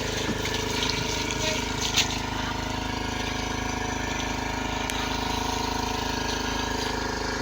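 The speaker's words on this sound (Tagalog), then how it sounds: "Lakas ang tubig. Ayan, Lakas ang agos." A pump pushes a strong flow of water into tanks and drums on Grande Island, with a steady, even mechanical hum and rushing water that hold constant throughout.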